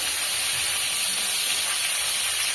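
Roast meat frying in a pan in a Bangladeshi home kitchen, a steady dense sizzling hiss running unbroken at moderate loudness throughout, with no voices.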